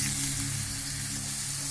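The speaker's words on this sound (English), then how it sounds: "Sizzle, baby." Steady, dense sizzling of a ribeye steak frying in a hot, smoking pan, loud and close, with a continuous crackling hiss and no talking.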